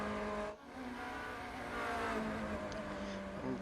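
A Formula Renault 2.0 race car at Barcelona Catalunya circuit revs after the race, its engine note droning and rising and falling at moderate distance with a brief dip, steady throughout.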